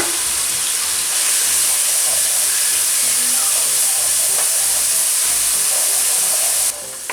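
Tomatoes with salt, red chili, turmeric and garam masala fry in a pan over a low flame for mash daal, giving a loud, steady, continuous sizzle with no talking.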